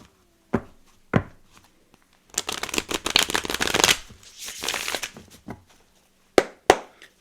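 A deck of tarot cards being shuffled by hand, starting with a few isolated taps, then a dense riffling burst of several seconds, a softer second stretch, and a couple of sharp final snaps, all close and without talk.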